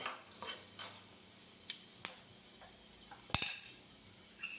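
Chana dal fries in hot oil in a pan for rava upma, giving a steady sizzle broken by occasional sharp spoon clinks and a louder clatter near the end. No one speaks.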